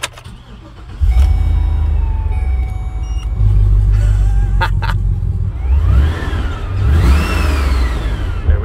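A supercharged LS V8 engine in a work van idles loudly, then revs in several rising bursts, its blower whine climbing and falling with each press of the throttle.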